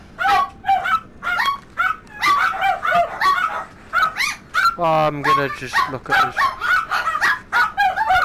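Dogs barking repeatedly at home, a run of sharp yaps and barks with some whimpering, close and loud, while a person keeps talking over them.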